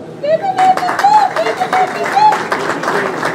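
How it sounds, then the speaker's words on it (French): An audience at a memorial vigil for a professor breaks into sustained applause, with dense clapping running under a voice speaking over it. "Vous pouvez en tout cas applaudir pour cet homme-là."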